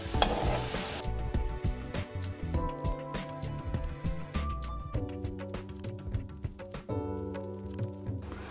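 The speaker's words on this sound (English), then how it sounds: "I'm gonna fry these in some vegetable oil" Plantains fry in vegetable oil, sizzling and crackling steadily under a backdrop of musical tones, with occasional stirring taps in the pan.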